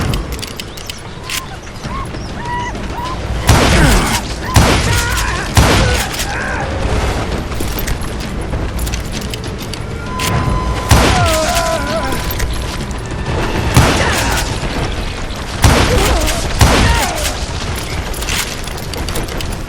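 Gunfire in the Western shooter game Call of Juarez: Gunslinger cracks out in loud, scattered bursts and booms over steady background noise and game sounds, with a voice speaking in between.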